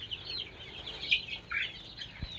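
Free-range village chickens cluck and chirp on a small poultry farm, several birds calling in short bursts at a moderate distance, fairly quiet, with no talking.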